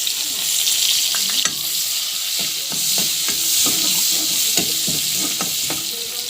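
Onions sizzle and fry steadily in a pan for egg curry, with repeated clinks and scrapes of a spatula stirring them, close and continuous with no talk.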